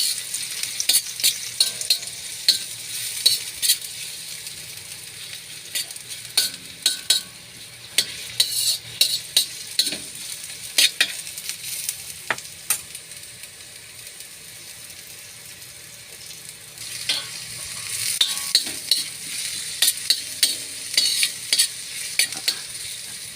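Adobo of catfish simmering in coconut milk being stirred in a pan, with a steady sizzle under repeated scraping and clacking of the spoon against the pan, louder in bursts, no talking.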